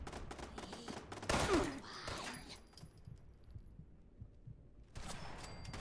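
Turret gunfire in the game Fallout 76 comes as rapid bursts of dense automatic shots, heavy at first, then a quieter stretch before the firing starts again near the end.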